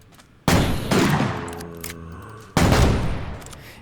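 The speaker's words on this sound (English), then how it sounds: "Shotgun, 1-shot kill." A shotgun firing buckshot in the Minecraft ARK guns mod: two loud, booming blasts about two seconds apart, each with a ringing tail that slowly fades.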